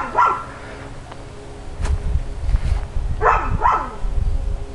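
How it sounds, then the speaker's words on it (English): A dog barks in the background while a foam Halloween mausoleum prop is shown, a few sharp barks and yips spread across the moment at moderate distance. "And that's my stupid dog in the background."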